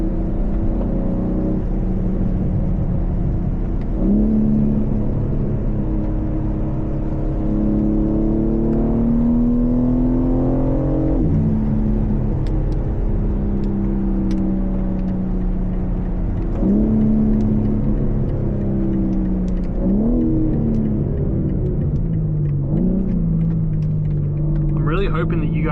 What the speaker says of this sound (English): Hoping that you guys can hear the rain too with the sound of the car.